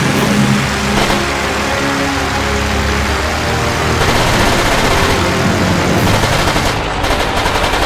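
A WWII fighter plane's engine in a combat flight game roars loud and steady, rising in pitch as it speeds up, with rapid machine-gun fire layered over the drone.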